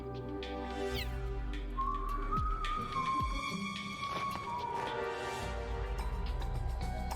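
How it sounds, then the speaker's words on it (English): Whistling inside the video game Metal Gear Solid 4, a clear melodic tune that rises and wavers for several seconds over low rumbling in-game ambience and effects. "Do you hear whistling?"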